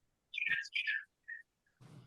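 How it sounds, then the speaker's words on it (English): Bird chirping outdoors: a few quick, bright tweets in short bursts, clear but faint against an otherwise quiet background. "I hear a bird chirping."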